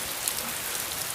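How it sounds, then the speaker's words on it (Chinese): A heavy downpour pours in a dense, steady hiss of rain with scattered faint drop ticks, continuous and even, with no voices. "你看这瓢泼大雨"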